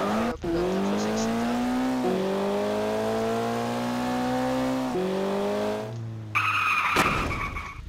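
A car skidding in the video game Garry's Mod DarkRP: a long, steady tire squeal with a sustained engine tone that dips and shifts pitch, ending in a brighter burst of engine and tire noise, loud and close with no talk.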